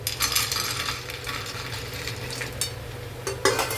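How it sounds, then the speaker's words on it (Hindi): Crunchy fried kabuli chana (chickpeas) are stirred and tossed in a pan, giving a steady close rattle of dry, crisp pieces with faint sizzling, no voices. "तो ये एकदम क्रांची आवाज़ सुनिए, एकदम क्रांची काबुली चना फ्राई"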